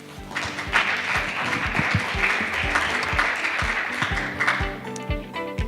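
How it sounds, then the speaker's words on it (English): Seminar audience at an Arctic Frontiers event applauds to welcome the chair, dense sustained clapping from a roomful of people, steady and fairly loud, tapering slightly toward the end. "Please give a warm welcome and applause to Ms."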